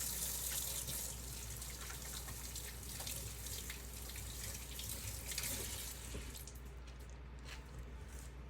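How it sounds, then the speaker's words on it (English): Water runs steadily from a kitchen sink tap while hands are washed during home cooking, a continuous close hiss and splash with small drips and no talking. "Put that in the sink. Wash your hands."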